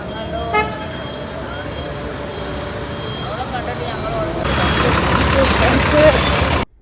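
A KSRTC bus bound for the Alappuzha depot, with steady engine rumble and traffic noise, a short horn toot early on and louder road roar toward the end.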